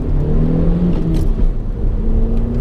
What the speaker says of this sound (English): Right, accelerating onto a motorway,